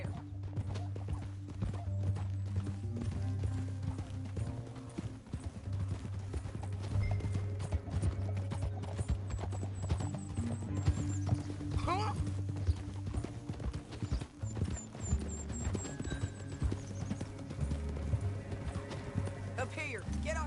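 Horse hooves clip-clopping at a steady gallop in the video game Red Dead Redemption 2, continuous and fairly close over a low music bed, with occasional whinnies; speech is tagged but no clear words are audible.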